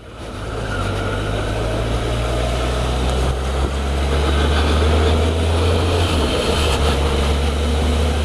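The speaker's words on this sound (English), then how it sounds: "it's definitely nice to get the engine in the bike ticking over again" A steady low motorcycle engine idle runs continuously, loud and close, with a constant rumbling hum and a slight shift in pitch near the end.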